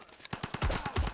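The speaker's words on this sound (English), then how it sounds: "hopefully the Gatling gun can finish them off" Rapid Gatling gun attack in Civilization V, a short burst of about eight quick, evenly spaced shots that swell louder toward the end, fairly quiet overall with no talk.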